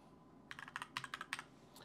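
Quick typing on a computer keyboard while searching from the Windows 11 start menu: a short run of about a dozen crisp, close key clicks in an uneven rhythm over faint room noise.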